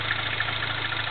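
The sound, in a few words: MINI Clubman S engine idling with rattly timing noise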